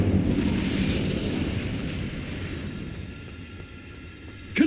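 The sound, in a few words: Confringo and Bombarda spell explosions in Hogwarts Legacy video game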